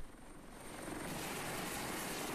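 An Airbus H225M medium-lift military helicopter of the Republic of Singapore Air Force runs with a steady, broad rotor and engine roar that swells slightly, moderately distant and without speech.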